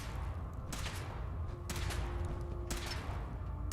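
Gunfire during a Fallout 4 power armor test: three sharp shots roughly a second apart, each ringing briefly over a steady low hum.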